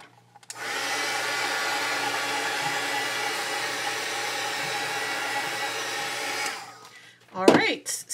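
Handheld craft heat tool blows hot air onto surface inks for about six seconds, a steady loud whooshing drone that cuts off abruptly, followed by a brief clatter of handling noise.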